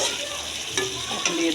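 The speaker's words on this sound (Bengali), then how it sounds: "আমার মশলার তেলটা ছেড়ে দিচ্ছে। এখন আমার কষানোটা হয়ে গেছে।" Spices frying in oil for a dried-fish and taro-stem dish, kept moving with a spoon: a steady close sizzle with a couple of sharper scraping stirs, no one speaking.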